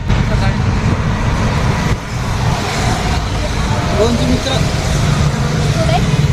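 Road traffic rumbles at a signal, with cars, buses and trucks idling and moving nearby in a loud, continuous low drone. People talk over it now and then.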